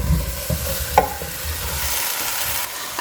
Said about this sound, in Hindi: अच्छा जी, अब यहाँ पर पैन में मैं डाल दूँगी टमाटर।